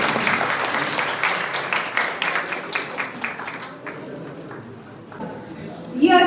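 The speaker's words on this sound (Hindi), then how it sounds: "धन्यवाद करने के लिए तो जोरदार तालियों के साथ स्वागत कीजिए।" Enthusiastic audience applause at an International Women's Day celebration at a teacher education institute, dense clapping that thins out and fades after a few seconds, followed by quieter room noise.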